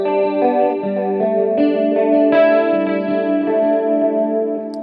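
Guitar played through a Free The Tone Future Factory modulation delay pedal, sustained chorused chords with shimmering echoes and a few new strums layered over ringing tails, steady and close with no talking.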